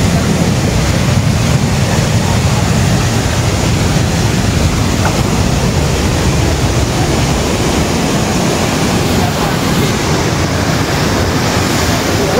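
Savatkada waterfall roars as a loud, broadband rush of falling water close to the microphone, continuous and steady, with wind buffeting mixed in.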